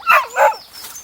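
A dog gives two close, loud barks in quick succession, followed by a softer trailing whine, heard alone with no talk.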